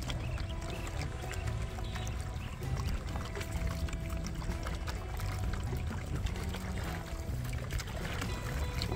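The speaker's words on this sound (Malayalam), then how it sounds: "അവർ നമ്മളെ തുഴഞ്ഞിട്ട് കുറച്ച് ദൂരം പോയിട്ട് തിരിച്ചു വരും." A coracle boat is paddled across the water at Pullu paadam in Thrissur, giving a steady wash of splashing and trickling water that stays even and fairly faint throughout, with no speech.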